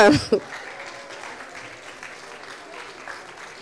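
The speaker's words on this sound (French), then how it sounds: "Et voilà Muriel Rodier, on peut l'accueillir et même l'applaudir." Audience applause at a round-table session, soft and fairly distant clapping from a modest crowd, following a brief voice at the start.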